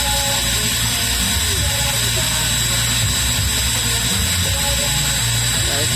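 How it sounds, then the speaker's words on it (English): A power drill grinds steadily through a ceramic clay pot, a loud continuous whirring drone with rough scraping texture, under faint background talk. "drilling a hole in the pot."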